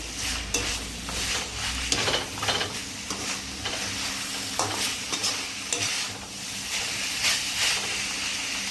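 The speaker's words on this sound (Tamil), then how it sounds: "ரைஸை போட்டு கிண்டி வேண்டியது." Rice being stirred and tossed in a hot pan on full flame for hotel-style fried rice, a steady loud sizzle with repeated scraping strokes of a spatula against the pan, close and continuous with no talking.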